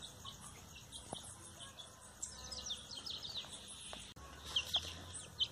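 Young free-range chickens clucking and peeping faintly on a ranch, soft scattered calls over a steady background of insect chirping.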